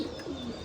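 Pigeons cooing softly in a short burst, faint and a little distant.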